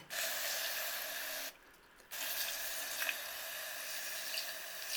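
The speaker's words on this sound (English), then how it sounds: "I just get the water here, and all I do is just spray here." A hand spray bottle misting water over orchids in glass vases, two long hissing sprays close by separated by a brief pause.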